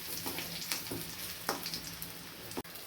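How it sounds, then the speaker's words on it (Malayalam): Curry leaves dropped into hot oil with browned onions for a roasted-coconut shark curry, giving a faint close crackling sizzle with scattered small pops and a stirring scrape. "ഉള്ളി മൂത്തതിന് ശേഷം കറിവേപ്പില ഇട്ടുകൊണ്ട്"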